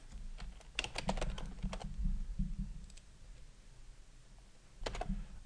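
Someone types a comment on a computer keyboard, soft clusters of key clicks coming in quick bursts with short pauses, faint and close.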